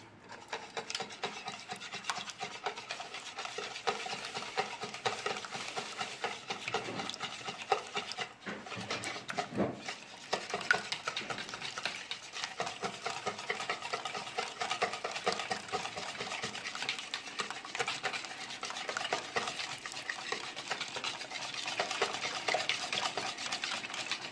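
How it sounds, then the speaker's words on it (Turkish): Eggs being whisked into yogurt in a bowl for a fried cauliflower dish make a steady, continuous scraping and stirring sound that runs for over twenty seconds with no talk. "Yoğurttan sonra yumurtalarımızı da içerisine döküp çırpıyoruz."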